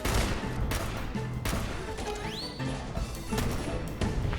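Exchange of gunfire with guards in the video game Fallout 4: repeated loud shots and crashing impacts in quick, uneven bursts, with a brief rising whine partway through and no voices.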